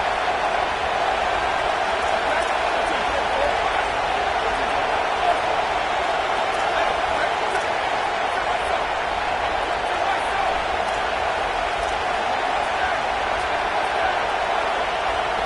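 Stadium crowd in a Texas college football video game roars steadily as the home fans force a false start, a dense, unbroken wall of loud cheering noise throughout with no pauses.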